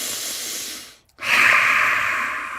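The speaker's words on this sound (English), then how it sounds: "I do a lion's breath out" A single forceful open-mouthed lion's breath exhale during a yoga session follows a brief pause for the inhale, a loud, close, breathy rush that sustains for over a second.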